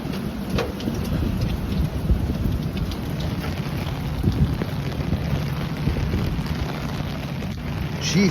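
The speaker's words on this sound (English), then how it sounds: "get a better vantage point of the storms hitting the storm system" A thunderstorm in Midtown Manhattan pours steady heavy rain that hisses constantly at close range, with low rumbling thunder rolling beneath it and no talk.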